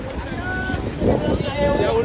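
A small wooden boat moves on the sea toward Karanja jetty, its low engine rumble and water wash mixed with strong wind buffeting the microphone, with people's voices nearby.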